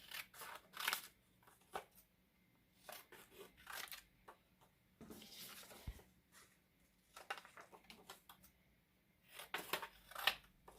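Scissors snip through sublimation print paper while it is trimmed to size, giving repeated crisp cuts in short bursts with pauses between them, close and clear with no talking.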